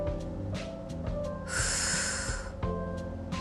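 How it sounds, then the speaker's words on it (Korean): Slow exercise breath in and out during a pelvic-release stretch in a core and waist workout, with one long, soft airy exhale in the middle over steady background music. "다섯 번 호흡 들여 마시고 내쉬고"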